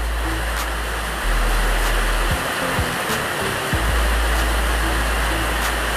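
Steady rain falls in Brazzaville, a loud, continuous hiss of downpour with a low rumble underneath and a passing vehicle briefly swelling the noise midway, no talking.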